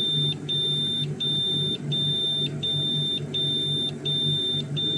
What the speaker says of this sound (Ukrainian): Якщо я не доторкаюсь до пластикового корпусу мікрохвильовки, то не пищить.